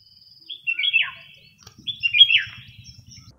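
A red-whiskered bulbul gives two bright, warbling calls a moment apart, clear and close, with a faint low rumble underneath.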